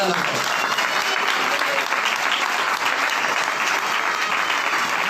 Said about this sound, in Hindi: जोर नाल ताली करो जयकारा लगाओ।